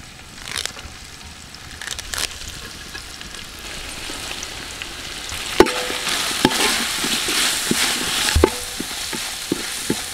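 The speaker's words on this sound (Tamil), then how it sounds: "வெங்காயம், இஞ்சி பூண்டெல்லாம் நல்லா வதங்கிடுச்சுங்க." Onion, ginger and garlic fry in a pan during village-style mutton cooking, a continuous crackling sizzle broken by sharp scraping stir strokes that grow busier and louder toward the end.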